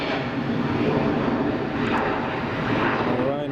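A TUI airliner comes in to land at Madeira Airport, its engines a steady, loud broadband roar that holds through the whole moment, with a voice talking over it.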